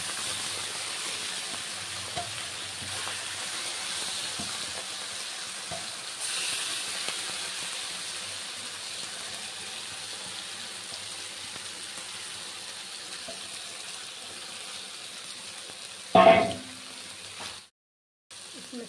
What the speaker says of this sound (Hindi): इस मछली को हम ऐसे फैलाते हुए डाल देंगे और गैस को हम मीडियम कर इसको हम 3 से 4 मिनट तक पकने देंगे